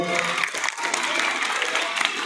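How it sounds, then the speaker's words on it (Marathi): School students at Z. P. School Kanhe, a rural Indian school, clap loudly together in a dense, continuous burst of applause that runs steadily for a couple of seconds, with no pauses. "सर्वांनी जोरदार टाळ्या वाजवायचे."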